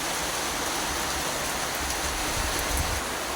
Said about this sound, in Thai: นี่ครับฝนมาแล้วนะครับ